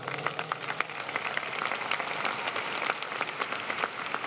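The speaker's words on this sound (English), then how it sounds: "How about a round of applause again?" Large crowd applauding at a university commencement in SoFi Stadium, a wide, even wash of many clapping hands with scattered sharper claps, steady and spacious like rain throughout.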